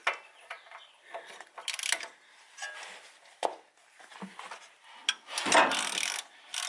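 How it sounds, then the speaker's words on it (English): Ratchet fitted with an 18-inch breaker bar working loose a bolt on a Jeep front axle: a run of quick metallic clicks and pawl ticks, with a louder crack-like burst near the end, close and without talk. "I'm going to use my new ratchet, which is pretty low. It's got an 18-inch bar on here"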